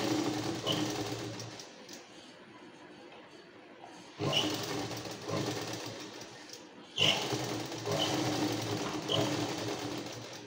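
A sewing machine stitches the folded neckline of a kurti in short runs, its fast mechanical whir starting and stopping in bursts with quieter pauses between, close and moderately loud.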